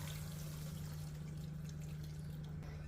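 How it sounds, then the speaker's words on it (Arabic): Boiling water is poured from a cup over chicken breast browning in a pan, a faint steady pouring and sizzling wash over a low constant hum, with no speech. "حنضيف على الدجاج كوب من المي المغلي"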